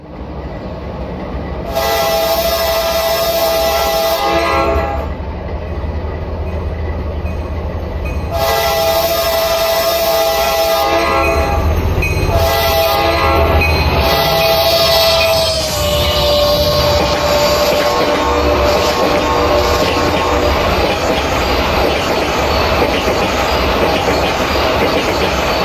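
An Amtrak EMD F40PHR locomotive passes in a train simulator game, with loud sustained engine rumble, sounding horn blasts in two long bursts and a third shorter one, and continuous rail clatter throughout.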